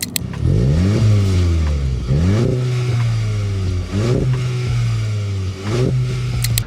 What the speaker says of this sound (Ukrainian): здвоєна вихлопна система, яка там навіть щось трошки бурчить